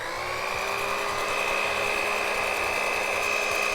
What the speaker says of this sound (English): So you're gonna beat the egg whites just until they get really frothy and are no longer translucent